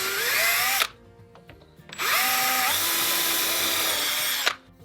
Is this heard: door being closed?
no